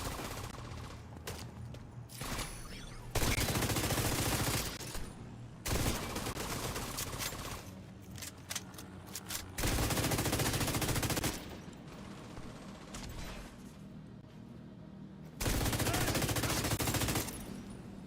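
Automated turret gunfire from The Division 2, coming as loud sustained bursts of rapid automatic shots separated by short quieter gaps, with several long volleys across the stretch and no one talking over it.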